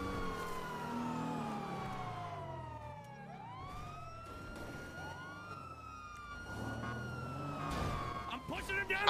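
Police car siren wailing in GTA No Pixel, rising and falling sweeps repeating throughout at steady loudness while a voice talks over it, with engine rumble underneath and a louder burst near the end.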